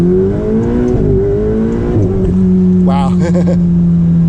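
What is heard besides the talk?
Ferrari 488 Spider accelerating in first gear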